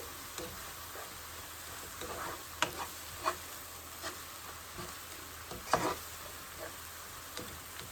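Onion frying with a pinch of salt in a pan over medium-low heat for chole bhature gives a steady, faint broadband sizzle, with occasional soft clicks of a utensil stirring. No one talks.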